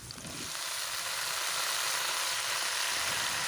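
Water spinach (kangkung) dropped into a hot wok for restaurant-style stir-fry: a sudden loud sizzle rises within half a second into a steady, close, broadband hiss of frying that holds unbroken to the end, with no talk.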